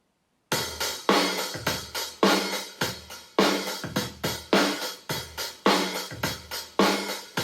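A rock drum loop plays alone: punchy kick and snare hits with bright cymbals in a steady, driving pattern, loud and close.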